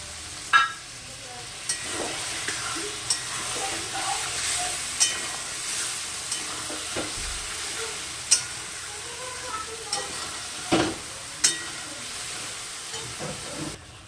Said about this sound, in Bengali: এবার মশলা দিয়ে আলুটাকে আমি ভালো করে কষাবো।